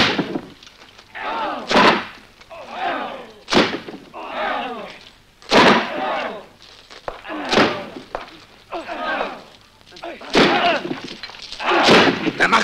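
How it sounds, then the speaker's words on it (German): Men batter a door in a 1961 German knight film: heavy wooden thuds and slams land about every two seconds, loud and close, with voices shouting between the blows. "Schlag die Tür ein, Männer."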